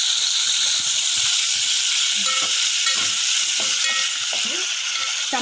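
Chopped tomatoes hit a hot pan of oil while pepper soup is being made, giving a loud, steady sizzle and crackle that carries through the whole short stretch, with a faint stirring scrape now and then and no talking.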